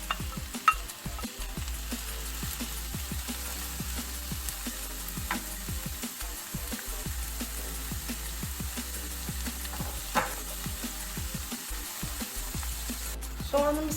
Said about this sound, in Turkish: 2 tane ince doğranmış büyük boy soğanımı ekliyorum